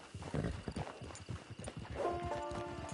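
Horse hooves clip-clop in a steady walking rhythm on a trail in the video game Red Dead Redemption 2, close and clear, with a faint low background drone and a sustained tone rising near the end.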